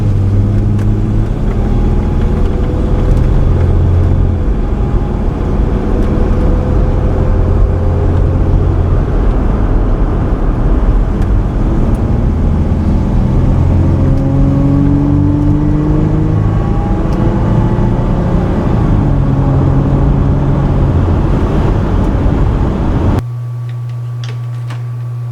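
A Toyota 4Runner fresh from a tune-up and cooling system flush drives on a test run, its engine droning steadily and loudly with rising and falling pitch through gear changes, under heavy cabin rumble that drops away at the end.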